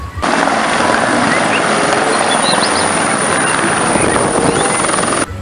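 Continuous loud rotor roar from a TNI military helicopter, steady and close for about five seconds, with a high whine running over the top and no speech.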